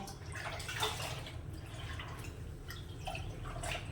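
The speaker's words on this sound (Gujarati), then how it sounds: "ભીનો ટુવાલ એને આની અંદર બોરી દેવાનો એકદમ સરસથી બોરી દેવાનો" A wet towel is dipped and soaked in a pot of water while dyeing light-coloured clothes at home, giving a steady run of close dripping, trickling and sloshing water with no talking.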